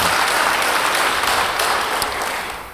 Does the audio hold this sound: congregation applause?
yes